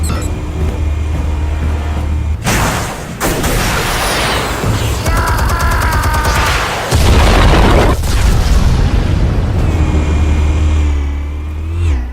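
Explosives go off in the Batman Telltale Series video game, with a sudden loud boom followed by crackling bursts and rumbling, then a second heavy blast later on, all over a continuous low game soundtrack.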